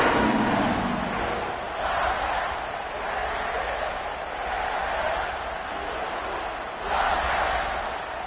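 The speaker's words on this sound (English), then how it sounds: "this crowd is buzzing after that last score" A large football stadium crowd at Kansas State hosting North Dakota buzzes after a fourth-quarter touchdown, a steady dense roar of many voices that swells and eases in waves across the whole stretch.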